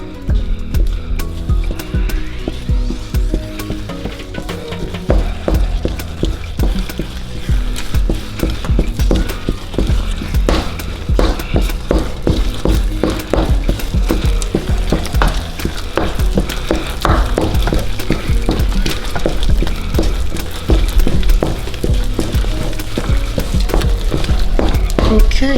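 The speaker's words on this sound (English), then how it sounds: "You mix slowly at first because you really do not want that to splash on you." Pounded yam being mixed in a pot at home: a dense, continuous run of close, thick thuds and scraping knocks with a steady, busy rhythm and no talking.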